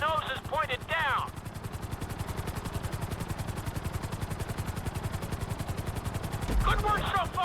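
A helicopter in the video game GTA V: steady, rapid rotor chopping throughout at an even pulse, with a turbine whine on top, over flat open country. A voice speaks briefly at the start and again near the end.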